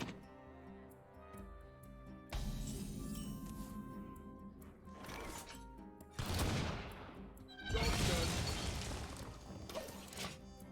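A coin cannon fires in a fish-themed monster-hunting video game, a loud burst of rapid booming, crashing shots in several waves over busy game music, with no talking.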